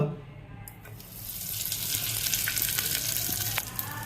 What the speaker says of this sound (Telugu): చూడండి ఇంగువ బాగా వేగింది